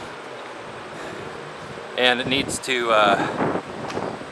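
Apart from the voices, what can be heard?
wind outdoors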